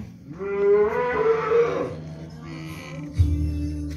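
A Simmental cattle, a young breeding animal with sturdy legs, moos once in a long, loud, drawn-out call that rises and fades. A deeper grunt follows near the end. No voices are heard.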